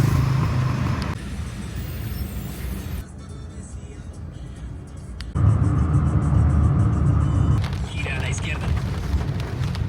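A red Uber car pulls up on a rainy street outside Bogota airport, its engine and tyre hiss a steady close rumble with traffic noise, the sound shifting abruptly between cuts.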